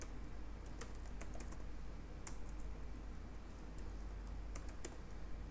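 Typing on a computer keyboard while coding a Laravel e-commerce product details page, with scattered quick key clicks in short bursts. The typing is fairly faint over a low steady hum, and nobody speaks.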